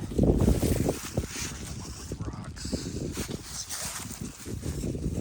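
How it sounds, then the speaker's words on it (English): Strong wind roars and buffets against a tent on the Appalachian Trail, a continuous loud gusting rush with flapping fabric and mic buffeting. "The wind is blowing so hard. It's blowing up my tents."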